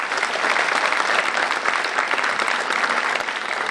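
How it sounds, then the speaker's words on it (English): An audience claps steadily and densely throughout, a sustained wash of applause from a crowd at a tech event, loud and continuous with no gaps. "Can we give them one more round of applause?"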